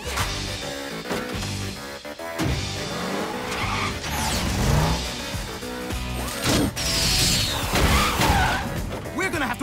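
In an animated Teen Titans Go! chase, a cartoon car skids with squealing tires and engine noise over a busy music score, with brief shouted voices and a crash-like hit.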